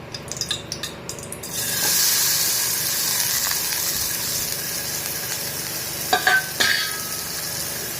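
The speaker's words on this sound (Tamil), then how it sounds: "லைட்டாக ஃப்ரை பண்ணிக்கோங்க." Paneer mixed with vegetables hits lightly heated oil in a pan and bursts into a loud, continuous sizzle that holds steady, with a few sharper crackles near the end.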